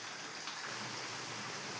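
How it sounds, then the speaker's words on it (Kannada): Heavy rain pours outside as a steady, faint, even hiss with no pauses, heard alone without voices. "ಹೊರಗಡೆ ನೋಡಿ ಸಿಕ್ಕಾಪಟ್ಟೆ ಮಳೆ ಬರ್ತಾ ಇದೆ"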